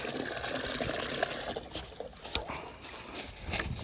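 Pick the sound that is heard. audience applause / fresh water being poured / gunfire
fresh water being poured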